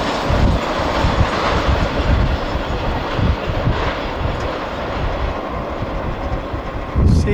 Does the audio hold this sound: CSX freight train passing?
yes